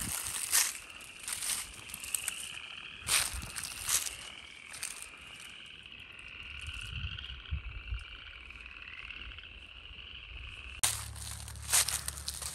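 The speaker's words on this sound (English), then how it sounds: "The upland chorus frogs are going off in this ditch." Upland chorus frogs calling from a roadside ditch in winter in North Georgia, a dense chorus of rising rasping trills repeating in overlapping bursts, fairly close and clear, with no talking.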